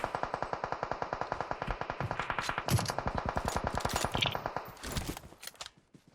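Rapid automatic gunfire in PUBG Mobile, a long sustained burst of evenly spaced shots that is loud and close, breaking into a few scattered single shots near the end.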